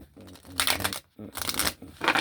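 Tarot cards are shuffled in a few quick riffling bursts separated by short pauses, close and crisp, with a voice speaking partly over the card sounds.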